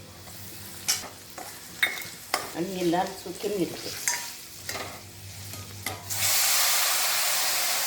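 Red chilli powder and spices sizzle in hot tempering oil for a Maharashtrian ambadi leaf vegetable, with a steady frying hiss, stirring and utensil scrapes, and someone talking over it before a louder, continuous sizzle near the end.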